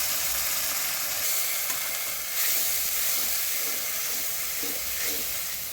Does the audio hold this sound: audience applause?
no